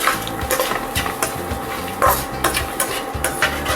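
Grated fresh coconut dry-roasted in a pan over a low flame, stirred steadily with close, loud scraping and rustling strokes of a utensil against the pan throughout.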